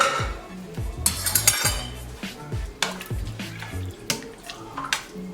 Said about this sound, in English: we are going to put our hominy back into the pot